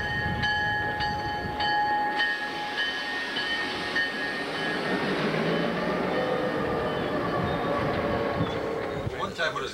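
A Milwaukee Road train hauling the general manager's car and dynamometer car X-5000 rolls past steadily with rumbling wheels and bright sustained tones, loud and close throughout with no pause.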